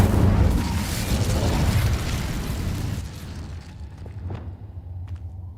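The Incendio fire spell from Hogwarts Legacy erupts in a loud, roaring whoosh of flame that surges and then gradually fades, followed by a couple of faint clicks.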